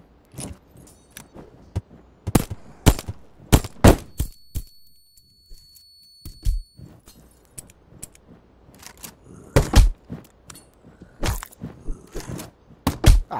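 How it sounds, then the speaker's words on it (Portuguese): Repeated 12-gauge shotgun blasts in Zumbi Blocks 2, sharp close cracks firing in irregular clusters with brief quiet gaps between them. "para de dar tiro de 12"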